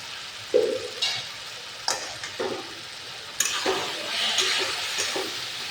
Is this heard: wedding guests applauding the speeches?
no